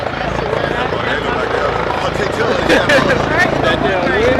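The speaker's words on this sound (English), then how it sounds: "Helicopter is here today." Helicopter at a small airport, its broadband rotor and engine noise steady and fairly loud throughout, with talk and other activity mixed underneath.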